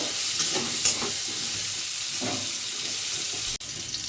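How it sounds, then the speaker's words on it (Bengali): Potatoes frying in a pan, a steady close sizzle with occasional soft stirring scrapes that ends in a brief cut. "তো দেখো আলুটাও আমার মোটামুটি ভাজা হয়ে গেছে"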